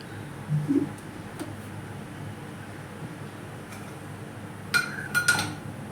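A metal pan is set down on a stove with a couple of clanks and clinks, close by, amid quiet kitchen background.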